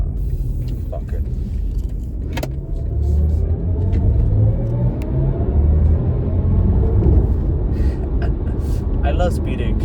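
A car speeds along the road, heard as a steady low engine and road rumble from inside that swells after the first few seconds, with a voice breaking in now and then.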